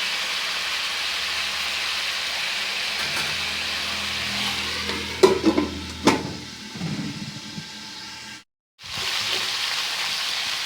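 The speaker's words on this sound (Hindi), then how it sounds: "अब हम इसे एक बार चला देते हैं और इसी तरह से उलटते पुलटते हमें इसे ढककर भून लेना है।" Ivy gourd (kundru) fries in a pan with a steady, close sizzle, broken midway by a few clattering stirs and turns, then a brief silent gap before the sizzling resumes; no one speaks.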